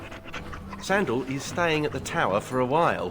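A dog pants in the Dragon Age: Awakening video game, its quick breathy huffs sitting under a voice that talks steadily over them.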